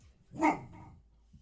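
A single dog named Bonsie gives one short bark indoors at moderate volume, with quiet surroundings before and after.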